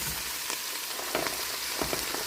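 Carrots and onions frying in a pan during preparation of a German beer-braised pork roast, a steady soft sizzle with a few brief stirring scrapes, close and fairly quiet.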